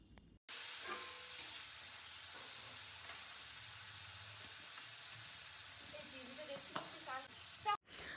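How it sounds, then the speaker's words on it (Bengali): Ground spices including Kashmiri chilli, coriander and black pepper fry in a pan for a thin hilsa fish curry with potato and nigella, producing a soft continuous sizzle with occasional stirring scrapes and clicks, fairly faint and close. "তারপর ভালো করে মশলাটা কষিয়ে নেব"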